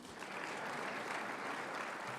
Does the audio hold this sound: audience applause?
yes